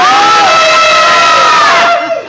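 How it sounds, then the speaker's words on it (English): A standing audience screams at full volume on a count of three, a dense, sustained roar of voices that holds for about two seconds before cutting off abruptly. "everybody that's standing, go ahead and scream"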